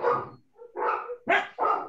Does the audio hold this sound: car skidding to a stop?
no